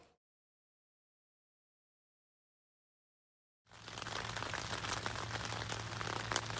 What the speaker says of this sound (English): if you can hear on the camera, it is raining